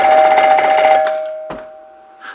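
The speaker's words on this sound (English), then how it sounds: "we have what seems to be a fairly standard NuTone mid-80s plastic 2-note chime base" A mid-1980s NuTone plastic two-note door chime rings a sustained bright tone that fades out, followed by a second single struck note that dies away, with a faint click at the end.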